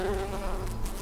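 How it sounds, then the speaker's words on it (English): A steady, close buzzing drone of a bee hovering, loud and continuous without pause. "It's a bee!"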